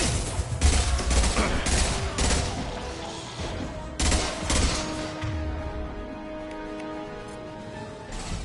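Bursts of gunfire in the Mass Effect 2 Legendary Edition shooter on Insanity difficulty, loud repeated volleys with two heavy clusters, then a sustained humming game score beneath sparser shots.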